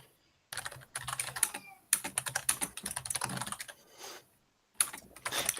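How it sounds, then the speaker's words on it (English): A mechanical keyboard clatters with quick bursts of close, crisp keystrokes that come in uneven runs with short pauses, alone with no voices. "So someone owns a mechanical keyboard."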